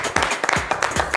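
Studio audience clapping for a guest arriving on set of an Ivorian TV entertainment show, a brief burst of claps with a voice over it.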